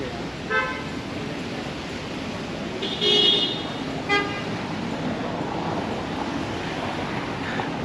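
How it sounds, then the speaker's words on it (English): Road traffic streams past the Souk Madinat Jumeirah entrance near Jumeirah beach in Dubai, a steady roadway rumble broken by several short car horn toots, with some voices in the mix. "A lot of cars passing by, so you got to be very careful."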